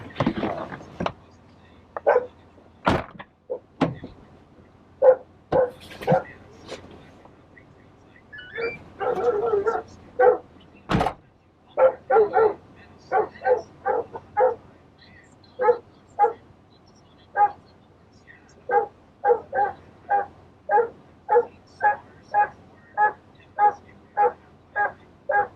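Dogs bark repeatedly at a delivery stop, a long run of loud, sharp, regularly spaced barks with a few clunks and mechanical noises mixed in near the start.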